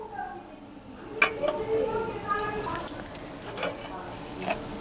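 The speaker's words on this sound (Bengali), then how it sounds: "চামচ দিয়ে আমি চেপে চেপে প্রথম দুধটাকে এইভাবে বের করে নেব।" A metal spoon presses and scrapes ground coconut against a strainer to extract coconut milk while cooking Bengali rui malai curry, giving a few sharp clinks and clatters over a soft, wet background.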